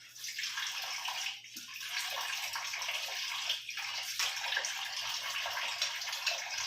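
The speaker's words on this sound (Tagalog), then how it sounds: "dire-diretso yung tubig" Steady rush of tap water pouring continuously at close range while washing dishes, an unbroken hiss with faint splashes and no voices.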